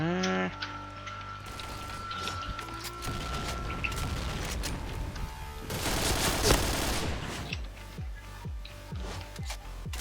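Rapid bursts of gunfire crackle through a shooting video game match, with dense automatic fire and a louder volley midway, layered with other game effects and no talk over it.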